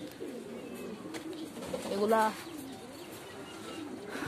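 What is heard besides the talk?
pigeons cooing in a pigeon farm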